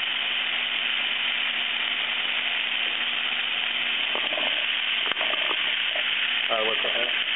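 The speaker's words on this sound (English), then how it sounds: "We're just going to cook these until the mushrooms are tender." Green onions and mushrooms fry in a pan for venison marsala, giving a steady close sizzle with brief bursts of talk over it.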